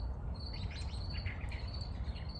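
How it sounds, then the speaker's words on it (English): Small birds chirp near a garden bird bath, a run of quick high tweets and short calls at moderate distance over a steady outdoor hum. "these other birds are wanting to come to the bird bath"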